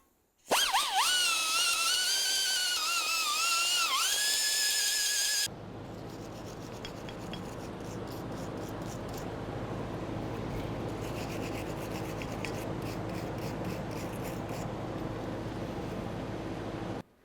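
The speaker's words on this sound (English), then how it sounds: "It's important to make sure you clean these four corners with some sort of sanding device" A high, screeching power tool whine gives way to a steady abrasive grinding and rasping as a sanding device cleans the corners of a 2014-2018 GMC Sierra 1500 brake caliper bracket, continuing for a long stretch.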